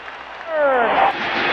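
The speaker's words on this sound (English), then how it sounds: "Listen to the crowd." A stadium crowd roars during a football game, a broad, loud swell of cheering that builds halfway through and holds, with a rising whistle-like tone cutting through the noise.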